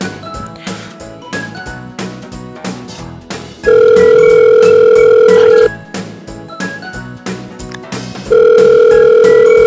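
A telephone call goes unanswered: a steady ringback tone sounds in two long bursts separated by a pause, loud and close, over soft background music with tinkling notes.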